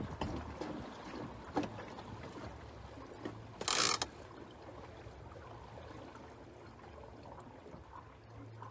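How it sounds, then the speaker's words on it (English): Quiet water rushing and gurgling along a small sailboat's hull as its automatic bailers suck water, with a brief loud splashy burst near the middle and wind noise throughout. "those automatic bailers, they make this sucking sound."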